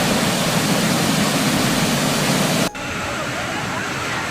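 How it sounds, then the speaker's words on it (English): Rushing floodwater from the swollen Yamuna in India, a loud, steady broadband roar of fast-flowing water that cuts out abruptly near the end and resumes slightly quieter. "Flow check करो, पानी का फ्लो।"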